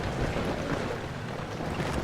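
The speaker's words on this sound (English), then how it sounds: "It's just a really windy castle." Wind howls steadily through a castle in the horror game Amnesia: The Dark Descent, a dense, continuous rushing roar with no pauses and no voices over it.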